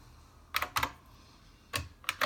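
Computer keyboard being typed on to enter an IP address, with a few separate key clacks in two small clusters, close by and fairly quiet, with no voices.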